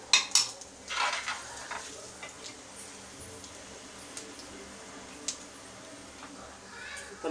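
Urad dal and cumin seeds hit hot oil and get stirred in a pan while making arai keerai puli kadayal, with a few scraping, clinking strokes early on over a soft, faint sizzle.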